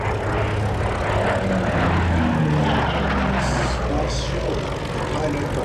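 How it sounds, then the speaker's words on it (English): A Lockheed P-38L Lightning, a twin-engine propeller fighter, drones steadily overhead at the Flying Legends 2011 airshow, its engine roar loud and continuous throughout. "The pilot, by the way, of this P-38 is Raymond Riedman."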